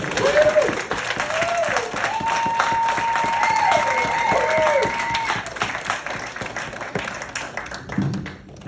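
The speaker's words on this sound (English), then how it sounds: "I would like you to give a huge round of applause for Mark Claver" A crowd applauds steadily with a warm swell of clapping, while a synthesized musical tone rises and falls over it before fading out.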